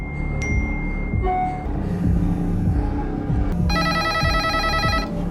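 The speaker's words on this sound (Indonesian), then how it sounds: "sampai-sampai HP-nya gak berhenti berbunyi" A mobile phone rings through a busy, noisy background: a bright electronic ringtone of rapidly repeating pulses cuts in near the end and keeps going, loud and close.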